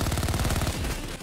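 Rapid automatic weapon fire from the heist shooter Payday 2, a dense rattling burst of closely spaced shots that runs loud and continuous for about a second before cutting off.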